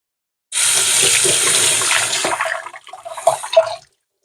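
Running tap water splashes steadily as a large fresh thyme sprig is rinsed under it, a continuous close hiss of flow that breaks into irregular splashes and drips near the end.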